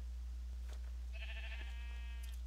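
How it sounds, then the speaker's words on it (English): A bighorn sheep from a modded Minecraft survival game gives a single nasal, wavering bleat lasting about a second, faint and alone over a low steady hum. "Bighorn sheep. My bad, it's not a ram."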